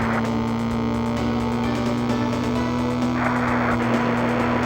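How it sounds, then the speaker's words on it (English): A car engine from the N64 racing game Penny Racers drones as a steady, buzzing electronic tone at constant loudness, with no talking over it. "it's drowned out by the extremely annoying sound of the car's engine"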